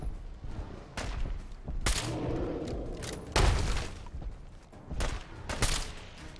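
Gunfire in the Fallout 4 video game comes as several sharp, loud shots at irregular intervals, with booming thuds and impacts between them over a rumbling game background.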